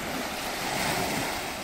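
Sea waves wash steadily near a beach club walkway that runs out into the water, a broad continuous surf hiss with some wind noise and no talk.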